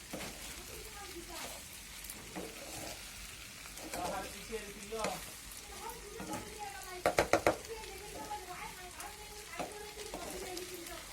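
Pasta being stirred with magic masala seasoning in a frying pan, a soft steady sizzle with scraping and a brief cluster of sharp clinks midway, with a faint voice in the background.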